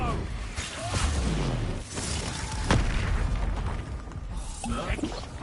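Expulso explosion spells go off in Hogwarts Legacy amid battle clatter: several booming bursts with whooshes and crashes, one especially sharp blast near the middle, all set under busy game sounds and talk.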